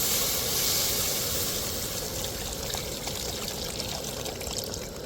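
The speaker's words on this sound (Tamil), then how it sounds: "இப்போ நம்ம கரைச்சி வச்ச புளியை சேர்த்துக்கிடுவோம்." Tamarind water pouring steadily into a simmering curry pot on a gas stove, a continuous splashing hiss that gradually settles into a softer bubbling trickle.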